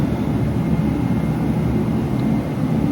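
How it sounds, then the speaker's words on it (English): A diesel heater runs steadily in a cold workshop, giving a continuous loud, low roaring hum with a faint whine on top and no breaks. "Got the diesel heater running right now and trying to warm it up"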